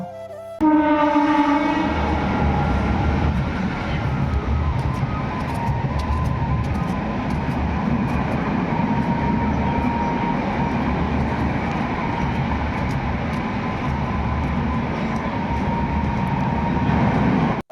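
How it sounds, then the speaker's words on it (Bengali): A freight train rolls past nearby with a heavy continuous rumble and rhythmic clatter of wagons, starting abruptly and staying loud and steady throughout, with faint metallic squeals above. "একটা একটা মালগাড়ি পেরিয়ে যাচ্ছে,"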